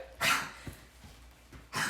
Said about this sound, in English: My dog's making very weird noises in the background.